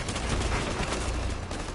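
Rapid gunfire in the Rainbow Six video game: a dense, continuous burst of shots filling the short moment, loud and close, with no talk over it.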